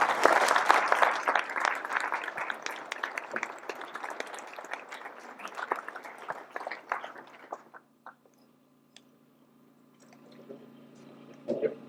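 Audience applause at a Longmont groundbreaking event honoring the city manager, a dense burst of many clapping hands that thins out after about eight seconds, leaving quiet room noise and a few scattered claps.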